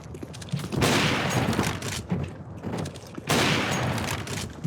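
AWP sniper rifle shots in CS:GO, two heavy booming blasts a few seconds apart, each followed by a long decaying rumble and reverb, loud and close with no voices.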